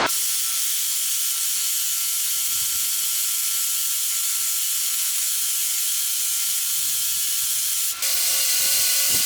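Spray gun hissing steadily as gold flake paint goes onto a custom electric chopper motorcycle tank, a continuous close airy spray broken by a short pause near the end.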